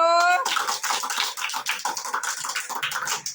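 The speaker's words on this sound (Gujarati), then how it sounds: "સરસ તાળી પાડો." A group of children claps in a rapid, uneven burst of many hands, close and loud, after a brief tonal sound at the start.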